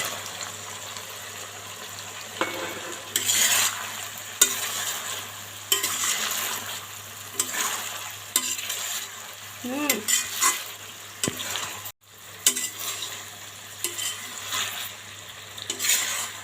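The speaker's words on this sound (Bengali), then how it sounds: "এখন আমি এর মধ্যে দিয়ে দেব আমার ভেজে রাখা সেই চিকেন।" Fried chicken pieces are stirred and tossed in a hot pan for chicken chili, with continuous sizzling and repeated scraping of the utensil against the pan. No voices are heard.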